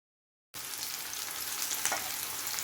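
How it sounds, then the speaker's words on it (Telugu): Onions fry in a pan with a steady, close hiss of sizzling oil that starts abruptly from silence, broken by a couple of brief scraping stirs. "ఈ ఆనియన్స్ అనేది గోల్డ్ కలర్ వచ్చేదాకా ఫ్రై అవ్వాలి."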